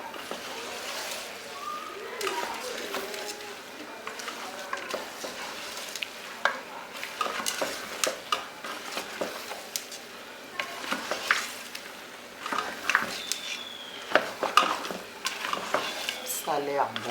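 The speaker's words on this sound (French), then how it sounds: "Là, je continue encore de mélanger." Spiced rice with meat stirred in a pot: soft scraping and clinking of a spoon against the pot in irregular bursts over a gentle sizzle, close up and moderately quiet.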